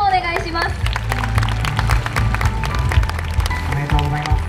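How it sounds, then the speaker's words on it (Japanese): Crowd clapping for award-winning dance teams at the Koiya Festival ceremony, a steady patter of applause mixed with music and a voice speaking over it. "もう一度大きな拍手をお願いします"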